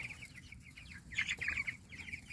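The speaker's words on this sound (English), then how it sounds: "I wanted to show you our butcher chickens." Three-week-old meat chickens raised for butchering, clucking and chirping in a pen on fresh grass, with a steady chorus of close, moderately loud bird calls swelling briefly in the middle.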